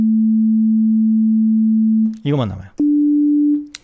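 A steady, pure electronic tone held for about two seconds, a short spoken phrase, then the same plain tone again at a slightly higher pitch.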